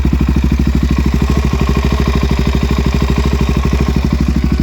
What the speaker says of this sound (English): Here's how the motor sounds.